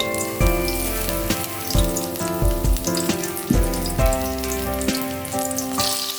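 Bombay duck fish coated in egg batter frying in foaming oil, a steady close sizzle and crackle with soft popping bursts throughout, no talking.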